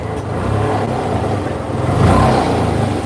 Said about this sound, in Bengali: এই যে ভাই গাড়ি কিন্তু স্টার্ট দিছি ভাই